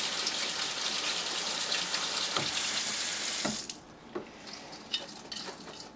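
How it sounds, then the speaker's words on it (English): Tap water runs steadily over canned beans in a colander at a sink, a loud close rushing flow that stops partway, followed by scattered drips and light clatter. "the best way you can get it out is to rinse the beans off"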